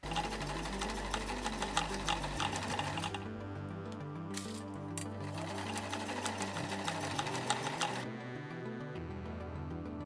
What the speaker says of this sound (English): My sewing machine did not want to cooperate with me.